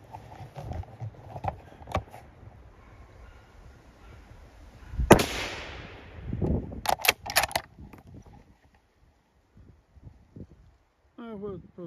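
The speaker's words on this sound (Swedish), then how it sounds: "Jag har skjutit på ett rådjur." A single loud, sharp rifle shot is fired at a roe deer during a moose hunt in the forest, ringing out once amid scattered rustling and knocks, with people talking before and after.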